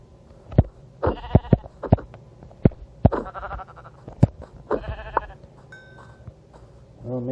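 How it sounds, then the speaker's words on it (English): Sheep in Minecraft bleat repeatedly, a series of loud, close, wavering calls scattered across several seconds with short gaps, mixed with sharp clicking taps. "there's another sheep"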